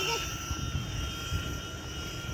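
A toy helicopter flies inside a room, its rotor and motor giving a steady high-pitched whine with a low rumble beneath, close and constant under faint background sound.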